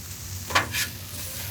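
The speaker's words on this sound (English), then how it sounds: "if you can hear that sizzle, you're doing something right" Chorizo and cooked pasta stirred on a hot Gather Grill griddle, a soft steady sizzle broken by two brief scraping stirs of a utensil, close by with no talking.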